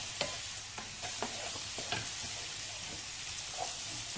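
Onions fry in a pan for a Spanish fish stew, giving a steady close sizzle broken by a few sharp scrapes and taps as they are stirred.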